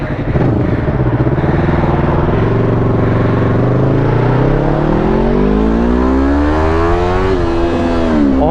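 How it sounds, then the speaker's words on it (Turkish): A warm motorcycle engine with its original exhaust, perforated by a hole, revs hard and loudly for several seconds, pitch climbing and falling in repeated sweeps. "orijinal egzoz ama delik olduğu için bir tık daha fazla sesi çıkıyor şimdi dinleteceğim"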